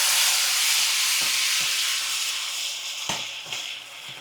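Tomato puree hitting hot oil in a pan for a spicy gravy, giving a loud, steady steamy hiss that slowly eases, with a few faint clinks of a utensil.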